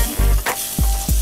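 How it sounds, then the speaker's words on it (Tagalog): Tofu sisig with melting butter hisses and sizzles on a very hot sizzling plate, with several short, loud bursts of crackling sizzle up close. "i-sizzling na natin yung ating sisig tofu"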